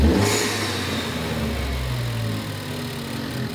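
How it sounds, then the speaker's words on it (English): Loud revving of a turbocharged 2013-2014 Ford Focus ST with a COBB cold air intake, a mid-pitched intake roar holding steady before swelling again at the end. "You can really hear the turbo through the intake now."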